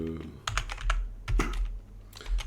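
Keys clatter on a computer keyboard in short clusters of quick taps with brief pauses between, close and fairly loud, with a faint low hum underneath.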